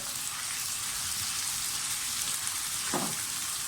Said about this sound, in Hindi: प्याज लाइट ब्राउन सा हो गया, साथ ही लहसुन अदरक का पेस्ट डाल दें। इसके साथ थोड़ी सी भुनाई करें